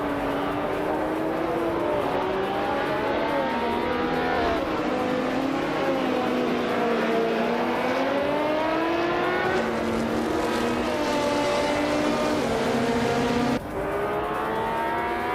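Race cars, among them a BMW 320 Turbo, drone continuously as engines rise and fall in pitch through gear changes, a loud, sustained layered roar with one abrupt shift in tone near the end.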